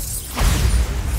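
The Bombarda exploding spell going off in the video game Hogwarts Legacy, a short whoosh into a heavy low boom that fades over about a second.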